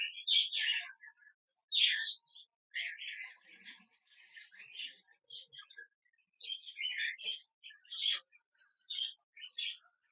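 Pet birds chirp and call in quick, bright bursts, several clustered phrases separated by short silences, close and clear against a quiet background.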